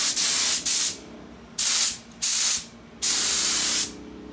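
A compressed-air spray gun, regulator set at 80, releases loud, close bursts of paint spray, five hissing blasts of varying length separated by short pauses.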